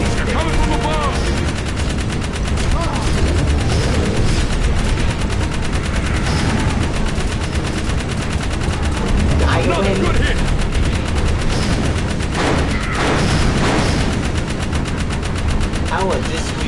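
Turret gunfire in the video game Jak 3: dense, continuous rapid shooting with explosive blasts and engine noise, loud throughout, with a voice talking over the barrage.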